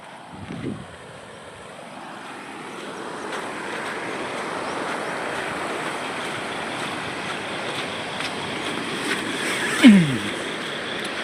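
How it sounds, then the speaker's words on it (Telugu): Large streams of rainwater flowing through big gullies after overnight rain, a broad, steady rushing wash that swells gradually, with wind buffeting and a brief bump near the end. "పెద్ద ఆ నీళ్ళన్నీ ఇట్లా పోతాయి అన్నమాట"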